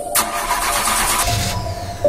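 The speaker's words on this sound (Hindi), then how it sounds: "मैंने वो ड्राइंग अपने पास रख ली और गाड़ी को दोबारा स्टार्ट करने की कोशिश की" A car engine cranks and catches in an animated Hindi horror story, the starter whine giving way to a steady mid-pitched idle, close and clear with no talking.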